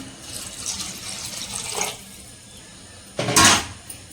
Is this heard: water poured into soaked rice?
yes